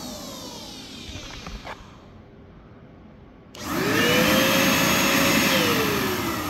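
An upgraded vacuum cleaner runs with a steady rushing hum, then surges louder as its motor revs up partway through and holds a strong, close roar.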